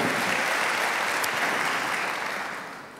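A church congregation breaks into sustained applause, dense steady clapping that fills the room and gradually fades toward the end.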